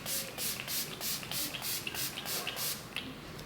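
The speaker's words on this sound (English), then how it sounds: "Let me do setting spray right now, actually." Rapid pumped spritzes of a fine mist spray, about a dozen short hissing bursts in even rhythm, close to the listener.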